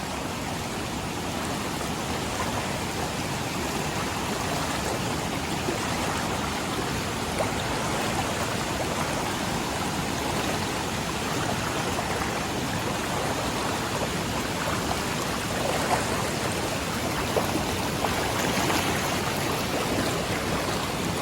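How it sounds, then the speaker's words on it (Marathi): A fast-flowing river swollen by flooding rushes past in a steady, dense roar that never lets up, with no voices. "मागे पुढे झालो तर आपण खाली वाहन जातो इतक्या पाणी याची गती आहे"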